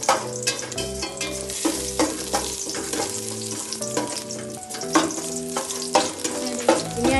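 Cashew nuts fry in hot oil in a Kerala kitchen while neychor is cooked. The oil gives a steady close sizzle, broken by repeated clinks and scrapes of stirring, with faint music in the background.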